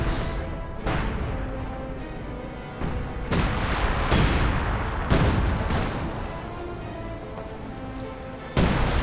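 Artillery fire booms through a World War II real-time strategy battle with Panzer Grenadiers in play, as repeated heavy blasts and rumbling explosions land at irregular intervals over a sustained battle din.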